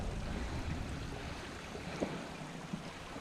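Great Brook, a small moorland stream near Crowden, runs beside a little pool in a steady broadband rush and gurgle, close and even, with no voices.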